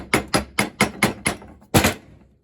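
A hammer taps car door sheet metal backed by a thick metal dolly, giving six sharp metallic strikes in a quick, even rhythm, then a brief pause and one final louder blow, close and with no talking.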